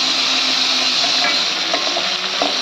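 Fish fry in hot oil with a loud, steady sizzle and crackle up close, a few faint scrapes underneath, and no voices.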